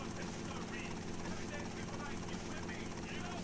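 A helicopter in the Vice City Stories video game drones steadily with a constant rotor and engine rumble throughout, under a voice talking over it.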